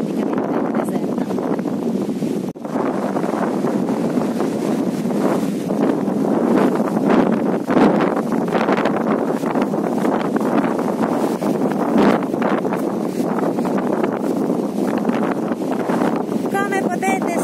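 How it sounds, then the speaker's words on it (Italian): Strong wind roars across a nearly deserted sandy beach on Lanzarote, a loud, continuous broadband rush with gusting surges, buffeting the microphone throughout like a jet turbine. "questo è il rumore del vento."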